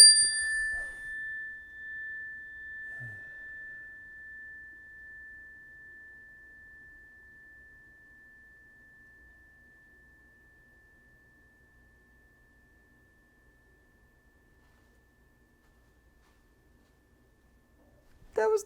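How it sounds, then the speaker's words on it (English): A mindfulness bell struck once with a whacker rings out in a clear, pure tone that fades slowly over many seconds, with brief voices near the start and end. "we take the whacker and we strike the mindfulness bell with it"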